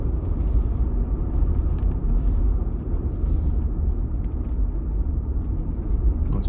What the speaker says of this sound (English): Nice bit of coastal driving.